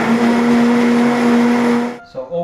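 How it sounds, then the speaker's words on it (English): A blender whizzes up a vegan freakshake made with coconut milk and agave, giving a loud, steady close-up whir for about two seconds before it stops abruptly. "Finish up by whizzing this up."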